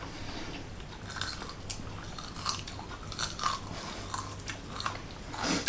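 Crispy baked tofu being bitten and chewed close up, a series of sharp crunches and softer chewing noises repeating irregularly over several seconds with no talking.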